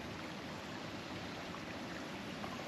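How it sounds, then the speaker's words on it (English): Water moving steadily along an outdoor stream, a constant soft rushing wash, fairly faint and continuous, with no voices. "the sound of the water moving"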